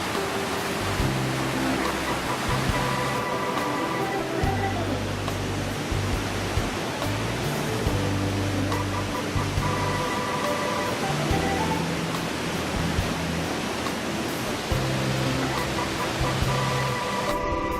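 A forest stream on the Sandakphu to Srikhola trek flows steadily in a dense, continuous rush that holds level throughout, close and unbroken, with no voices over it.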